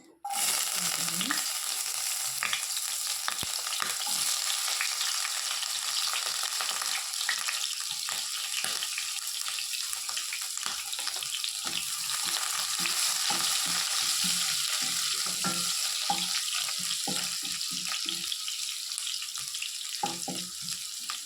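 Chopped onions fry in hot oil in a pan for a thagara leaf thoran, a loud, dense, continuous sizzle that bursts in right at the start and holds steady close by.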